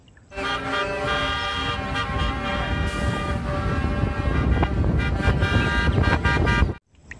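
A toy police car plays a loud electronic horn and siren tune, held steadily for several seconds before cutting off abruptly.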